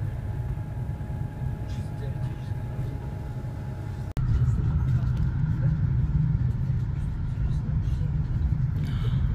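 A car driving along highways and interchanges on the approach to Moscow, with a steady low road rumble close inside the cabin and a brief jump in loudness partway through, while people talk over it.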